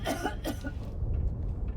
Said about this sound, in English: I also don't like how much I'm coughing.